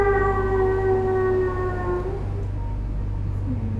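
A voice imitates a cat's long, wailing meow, a drawn-out tonal howl that slides downward and fades over a few seconds, with a steady low hum underneath.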